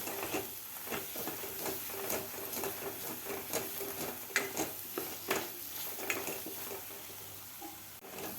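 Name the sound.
sautéing Byadgi chili powder and spices in a pan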